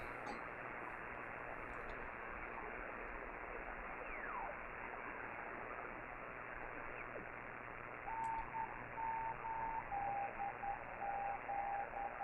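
Slow amateur-radio Morse code calling CQ on the 40-metre band: a hiss of static carries alone at first, then a clear, steady tone keys out deliberate, evenly spaced dots and dashes through the final seconds.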